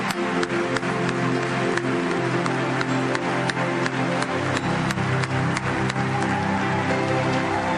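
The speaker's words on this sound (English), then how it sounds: "Please join me in giving them another rousing round of applause." A church congregation at a national recognition service applauds honorees on stage, dense and sustained clapping from a large crowd filling the space, loud and continuous with no distinct voices.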